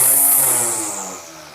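A Black & Decker 20V Max cordless string trimmer motor gives a brief, close electric whine that drops in pitch as it spins down over under two seconds.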